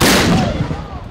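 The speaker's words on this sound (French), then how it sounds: "Canon, prêt. Pour le premier coup." A cannon fires at a First World War centenary reenactment outdoors, a single loud close blast with a sharp onset and a rolling echo that decays over a second.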